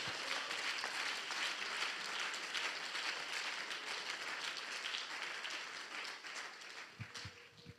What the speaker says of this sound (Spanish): Dele ese mejor aplauso al Señor